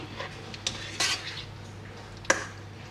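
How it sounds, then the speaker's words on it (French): A spoon stirs food in a hot frying pan, the heat already turned off, giving several light metallic clinks and scrapes over a quiet hiss, close by with no voices. "Je vais prendre une cuillère. Je vais bien remuer le tout."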